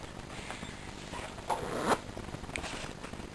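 A zipper on a forest backpack is tugged open in a short quick rasp, preceded by soft fabric rustling and a faint clack, quiet and close with no talking.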